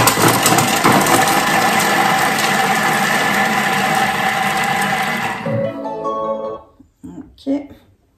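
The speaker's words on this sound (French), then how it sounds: "Suivant, 5 secondes, vitesse 5, ça va les mixer." A Thermomix food processor blends at speed 5 for about five seconds, a loud close whirring motor with a high whine that winds down abruptly, followed by brief clinks and faint talk.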